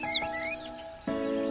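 Cartoon sparrow chirping: a few quick, high, bright tweets in the first half second, followed by a steady tonal hum.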